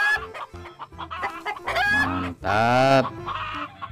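A hen clucks loudly and close, a quick run of clucks rising into a longer squawking cackle, with a brief spoken word over it.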